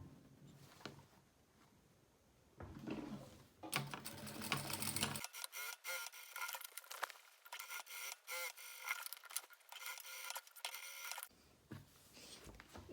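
Sewing machine stitching a fabric toiletry bag, quiet bursts of rapid mechanical stitching with short pauses in between, close and fairly faint.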